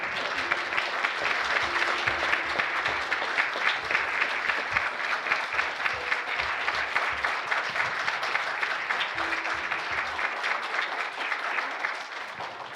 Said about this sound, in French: Est-ce que vous pouvez les applaudir?